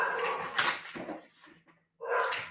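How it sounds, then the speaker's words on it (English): A pet dog indoors barks and whimpers in a few short bursts with a pause between them, fairly close and alone. "There goes my doggone dog."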